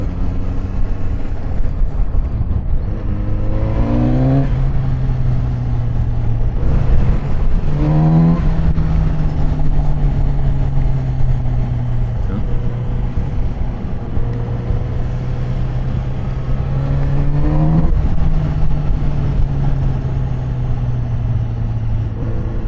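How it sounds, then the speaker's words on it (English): A Kawasaki Z900RS motorcycle engine pulls loudly and steadily while riding, with its pitch climbing through several gears and dropping between shifts, heard close with wind noise underneath. "enjoy the environment, the bike and the sound"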